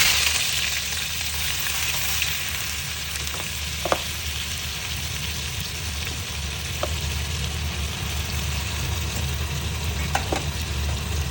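Chillies, onion and garlic fry in oil in a pan, giving a steady, close sizzle that runs the whole time with a few faint clicks and stirs and no talking.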